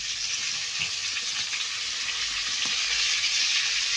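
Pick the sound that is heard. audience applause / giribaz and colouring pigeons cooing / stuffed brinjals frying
stuffed brinjals frying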